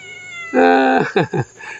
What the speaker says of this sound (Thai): จะให้น้องเหมียวมาเดินเล่นบ้าง